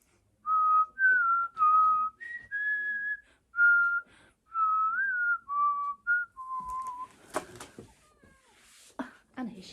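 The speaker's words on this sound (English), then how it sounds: "She particularly likes the Harry Potter theme tune." Person whistling the Harry Potter theme tune, a clear melodic line of distinct notes up close for about six seconds, followed by someone speaking softly and a cat meowing.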